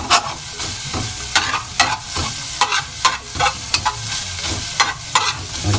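Garlic browns in a frying pan, a continuous close sizzle broken by repeated rhythmic scraping strokes of a utensil stirring, loud and with no talking.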